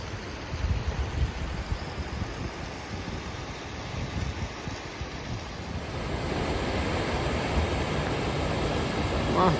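A powerful river in Lapland's fells along the Halti hike rushes in a broad, steady roar, mixed with wind buffeting the microphone, and grows louder and fuller toward the end.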